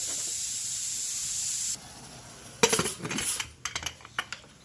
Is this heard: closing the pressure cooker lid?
yes